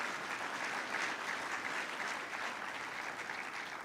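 An audience at the UN Global Supply Chain Forum 2024 applauds, a dense, steady clapping from a large crowd that holds evenly throughout and tapers slightly at the end.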